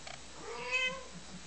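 A Tonkinese mother cat calls to her six-week-old kittens with a single soft, drawn-out meow that rises and falls, nearby and quiet against a still room.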